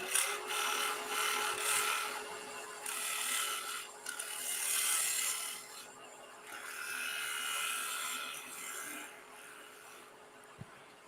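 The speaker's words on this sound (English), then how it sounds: "So that's just a little bit of scraping." Wood is scraped on a spinning lathe during woodturning, a sustained rasping hiss that swells and eases in passes over a faint motor hum.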